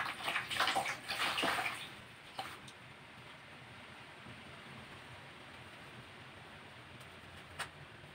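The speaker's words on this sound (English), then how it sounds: "And then I'm going to start washing his arm first." Water splashes and sloshes for a couple of seconds as a patient's arm is washed during a bed bath, then the room falls quiet apart from a few faint drips and small splashes.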